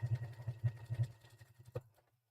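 A sewing machine stitches quilt blocks straight across in short, quick bursts of rhythmic whirring, fairly close and moderately loud, before stopping and falling quiet.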